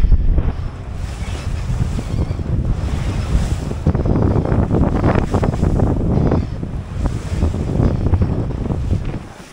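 Sailboat beating close-hauled along a coastal passage, a loud continuous wash of waves and spray against the hull under heavy wind buffeting on the microphone, no talk.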